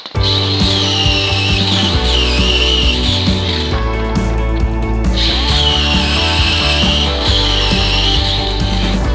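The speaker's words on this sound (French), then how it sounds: "Maintenant je vais meuler les points de soudure et on va percer ça." A Parkside cordless battery angle grinder grinds down tack-weld points on steel pieces, a loud, continuous high-pitched whine with a brief dip as the disc eases off mid-pass, then bites back in.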